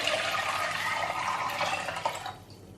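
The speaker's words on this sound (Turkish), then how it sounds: "burada 6 su bardağı su ilave ettim" Water poured steadily into a cooking pot for an Anatolian provisions soup with noodles, a continuous splashing fill that carries on for over two seconds, then stops abruptly near the end.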